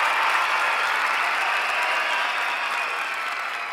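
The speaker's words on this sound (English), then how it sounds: "That was the studio audience applauding Hercules" A studio audience applauding, a dense, steady wash of many hands clapping together that fades slightly toward the end, with no voices over it.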